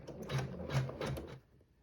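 Embroidery sewing machine stitching a tack-down seam on fabric for a tablet sleeve, a few quick rhythmic mechanical thumps and whirs close up that stop and fade into quiet.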